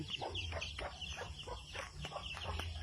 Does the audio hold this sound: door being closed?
no